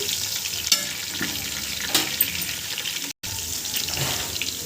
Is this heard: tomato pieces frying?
yes